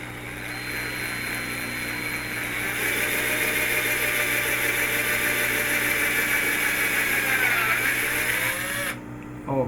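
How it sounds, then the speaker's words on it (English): A power drill bores a hole in an acrylic plexiglass mirror sheet with a loud, steady whirring grind that rises slightly in strength, then cuts off abruptly near the end. "So I have to drill inside."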